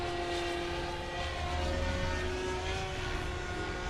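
A Goblin 500 RC helicopter hovers close by, its steady high-pitched rotor and motor whine running loud and continuous with slight wavering in pitch throughout.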